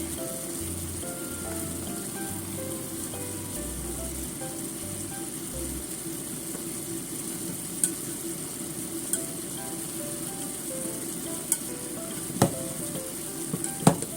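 Japanese sweet potatoes sizzle steadily in a pan over low heat as the last of the water steams off, a continuous close frying hiss with a few light clicks near the end.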